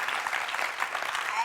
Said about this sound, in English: Can we give a round of applause for the great dad?